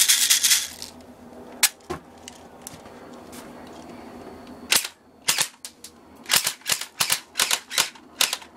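An airsoft gun snaps off a string of sharp, close clicking shots aimed at a cockroach, a few spaced single shots at first and then a rapid irregular burst over a low background hum.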